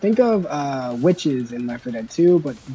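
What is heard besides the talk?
No everyday noise stands out behind the speech.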